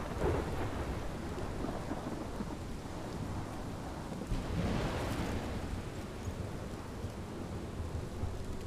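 A thunderstorm in the video game Life is Strange: a steady roar of heavy rain with a low rumble of thunder that swells midway, continuous and moderately loud, with no voices.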